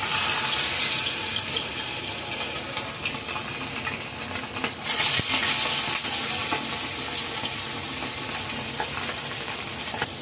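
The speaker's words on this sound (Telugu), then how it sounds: "చేపలు అయితే ఫ్రై అయిపోతున్నాయి" Dried fish frying in oil, a loud, dense, continuous hissing sizzle with bubbling crackle, close and steady throughout, with a brief surge midway.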